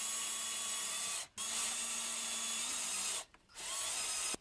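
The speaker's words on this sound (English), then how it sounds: "I'm drilling holes in the bottom half of the frame" A power drill bores holes into the bottom half of a wooden frame for a cheap homemade teleprompter, running in two long steady whines split by a short pause, then starting again briefly, close and loud.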